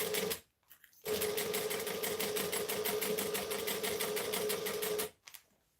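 A sewing machine stitches slowly and steadily through a wallet, re-sewing over existing stitches, with a loud close rapid needle chatter that starts after a short pause and runs for about four seconds before stopping.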